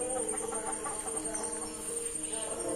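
Native hens clucking around a village coop beside an orchard in Ottapalam, Kerala: soft, repeated clucks under a steady high outdoor drone, medium distance.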